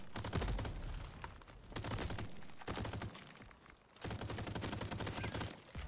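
Rapid gunfire in the game Crab Champions, dense continuous bursts of shots in three long volleys separated by brief pauses, loud and close.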